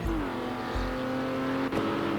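Heavy pickup trucks race in a PS4 Virtual Racing UK pickup championship finale, several engines droning and revving together up close, one pitch gliding down and holding steady, with short bursts of low thumping underneath.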